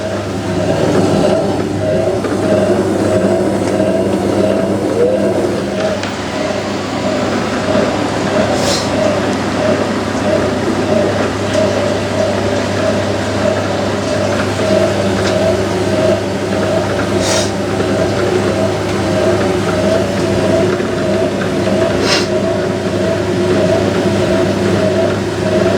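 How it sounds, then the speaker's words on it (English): A Hotpoint 9530 washing machine motor spins steadily after a coil wash, a loud, constant whirring drone with a few faint high clicks, running alone throughout. "The motor always sounds amazing on the Hotpoint though after a coil wash."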